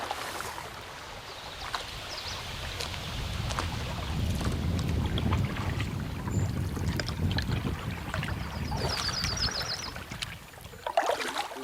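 A canoe glides across calm water on a solo wilderness camping trip, with soft rhythmic paddle strokes and light splashes over steady low wind rumble, close and fairly quiet, a few louder knocks near the end; no talking.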